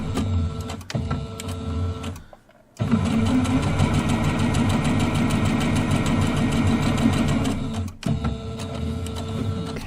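A sewing machine runs a quarter-inch seam on a quilt project, a loud rapid mechanical whir with brief pauses, stopping once for a moment and again near the end before restarting.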